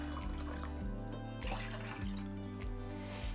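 A cup of water pours into a sweet and sour pickle brine of white wine vinegar, a steady close trickle of running liquid over a low, continuous background drone, with no voices.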